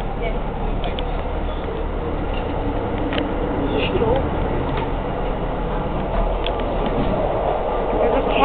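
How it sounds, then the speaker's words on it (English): Interior of a Metro-North Rebuilt M3 commuter train running during the morning rush hour, with a steady low rumble and rolling wheel noise throughout, a few faint clicks and rattles, and talk in the car. "We're inside a Rebuilt M3 in the morning rush hour."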